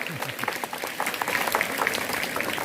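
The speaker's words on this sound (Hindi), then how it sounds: "जोरदार तालियां" An audience at a government high school Independence Day event claps for pupils, scattered claps building into fuller applause, with a voice speaking briefly at the start.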